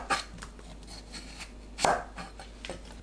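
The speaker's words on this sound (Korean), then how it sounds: "한입 크기로 썰면 되는데 큰 단감은 3등분, 작으면 2등분만 해도 됩니다." Knife slicing peeled, cored sweet persimmon (dangam) into bite-size pieces on a board, with a couple of sharp, close cuts and one louder chop standing out against quiet background.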